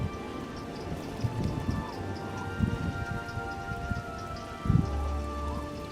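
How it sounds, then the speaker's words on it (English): Steady, soft patter of rain in the video game Oblivion, with a continuous hiss and a few louder low thumps and rumbles breaking through, and no one speaking. "The rain's on now."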